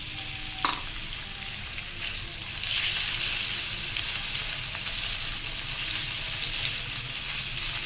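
Small cubes of chicken frying in a pan: a steady, close, bright sizzle throughout, with a brief clink near the start and gentle stirring shifts, no talking.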